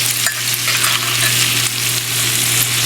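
A steak sizzles loudly and continuously in a pan as it is basted with its own juices, a dense close crackle with no pauses.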